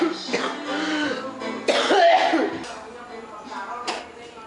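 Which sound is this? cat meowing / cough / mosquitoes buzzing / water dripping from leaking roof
cough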